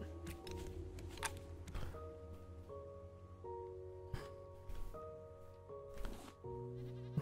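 Several goat bleats from the video game Raft ring out over steady background music, some drawn-out and wavering, others short, with no talking.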